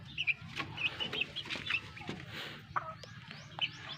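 Young chicks in a homemade cage give high peeping chirps in short scattered bursts over faint rustling and background noise, fairly close, with no talking.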